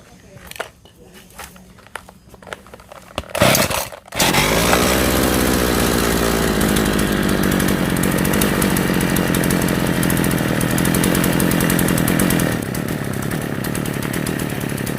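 A chainsaw with a bent carburetor fuel needle that starts poorly from lack of fuel: a few short pull-start bursts, then the engine catches and runs loud and steady, revving close by for the rest, easing slightly near the end.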